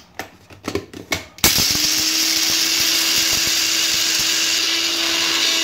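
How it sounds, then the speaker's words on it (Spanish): Coffee beans ground in a kitchen blender for a moka pot: a few clattering knocks, then the motor kicks in abruptly and runs as a loud, steady, high whine until the end. "Mido cuánto voy a usar y lo pongo en el blender."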